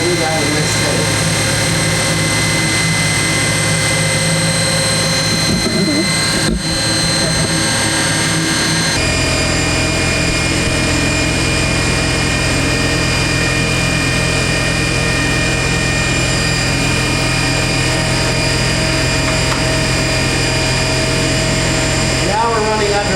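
DePalma N-machine driven by its drive motor under load at 2,600 RPM, giving a loud, steady machine whine with layered tonal hum; a brief disruption occurs partway before the running tone settles again, continuous to the end.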